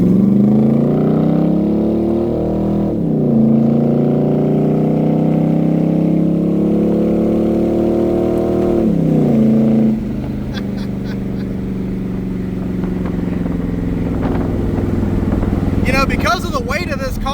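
A roughly 200-horsepower Corvette, the Hotbox build, accelerates hard with manual shifting. Loud, close engine revs climb in pitch through gear changes near three and ten seconds, then settle into a steadier drone.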